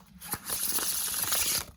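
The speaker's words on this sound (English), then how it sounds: "This linen cardstock was made to use, made to bend, made to shuffle." Thin, pliable linen cardstock tarot cards from the Nature Divine Tarot deck being shuffled by hand, a close, continuous papery riffle and hiss lasting about a second and a half.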